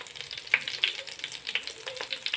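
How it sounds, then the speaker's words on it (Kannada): Fish wrapped in banana leaf fries in a clay pot, giving a steady soft sizzle with a few brighter crackles and spits scattered through it, close and fairly quiet, with no voices. "ಇದು ಇವಾಗ ಬೇಯಬೇಕು, ಇದರಲ್ಲೇ ಬೇಯಬೇಕು. ಮಣ್ಣಿನ ಪಾತ್ರೆಯಲ್ಲಿ ಮಾಡಿದ್ರೆ ತುಂಬ ಟೇಸ್ಟಿಯಾಗುತ್ತೆ."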